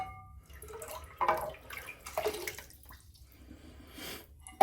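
Water dripping and splashing quietly into a bowl while shave soap is wetted, a few irregular soft drops and trickles, close and faint against near silence.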